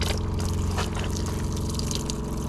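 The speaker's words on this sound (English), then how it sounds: "we're just gonna put some water through it and make sure it works and it don't leak" Water flowing through a newly plumbed pipe on a broken Manitou telehandler during a leak test, a steady broadband rush and trickle with faint dripping, close and continuous throughout.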